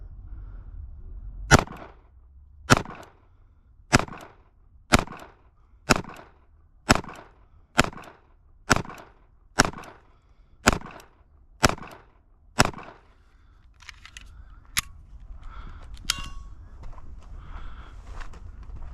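A Ruger LCP Max pistol fires at a target 5 yards away, about a dozen sharp loud reports at steady intervals of roughly a second, followed by a few fainter shots and clatter.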